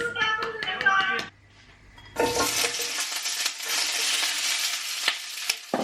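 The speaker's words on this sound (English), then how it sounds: "Cooking fajitas in a wok, because otherwise it goes everywhere" Fajitas sizzle in a wok on the hob, a steady broadband hiss that bursts in after a brief pause and holds loud for several seconds, with a few clinks over it; earlier, muffled talk and music play faintly.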